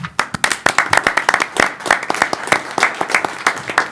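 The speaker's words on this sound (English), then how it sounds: "How about a round of applause for our staff?" Applause from a small group for the staff at a city committee meeting: dense, uneven handclaps carrying steadily throughout at moderate closeness, with no talking over it.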